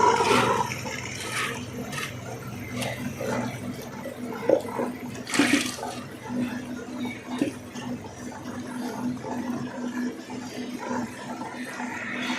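Water pours steadily into a wet grinder for idli batter made with urad dal, a soft continuous splashing with a few louder bursts, fairly close and fairly quiet.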